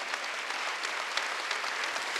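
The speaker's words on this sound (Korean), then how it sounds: "박수 한번 드리세요." A church congregation at a Korean Wednesday worship service claps in a dense, continuous burst of applause that stays steady and fairly loud throughout.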